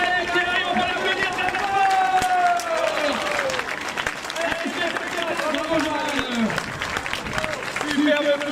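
A crowd applauds and cheers as a runner reaches the finish of the Foulées des Dunes 10 km race, steady clapping throughout under a loud announcer speaking over a PA.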